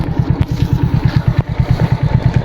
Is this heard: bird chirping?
no